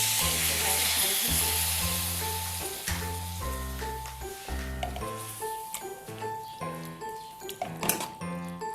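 Lightly ground tomatoes poured into onions frying in a pan for a bandi vegetable dish set off a loud, continuous sizzle up close, with steady melodic tones playing underneath.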